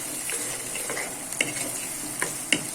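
Chopped onions sizzling in hot oil for an aloo chana curry, a bright continuous hiss with a few sharp spoon clinks and stirs.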